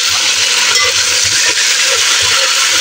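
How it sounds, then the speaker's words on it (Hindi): Chicken pieces fry with onions in a hot pan for a Memni chicken pulao, a loud, steady sizzle broken by soft rhythmic scrapes of stirring. "चिकन को फ्राई कर लेती हूँ।"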